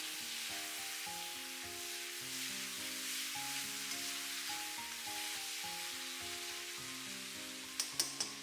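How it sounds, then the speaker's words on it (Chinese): Pork slices with pickled radish, garlic stalks and soybean paste are stir-fried in a pan, a steady hiss of sizzling under background music, with a few light clacks near the end. "再快速的翻炒，炒至调味料化开。"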